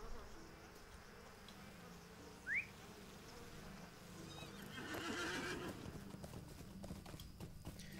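Video game horse galloping with clip-clop hooves and a short whinny, set against a steady buzz of insects and ambient outdoor noise; quiet and fairly distant, no talking.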